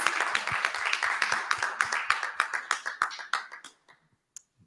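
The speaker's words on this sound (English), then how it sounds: "A round of applause, please." Audience applause for an award winner at a travel awards ceremony, a dense round of clapping that thins into scattered claps and fades out near the end, with a last isolated clap.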